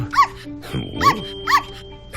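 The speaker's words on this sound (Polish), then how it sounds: "Pozwól najpierw, że przedstawię ci moje małe pieski." Small dogs bark in three evenly spaced yaps, close and fairly loud, with a steady electronic hum and a brief murmur of speech between barks.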